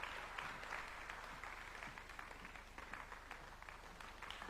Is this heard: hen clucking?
no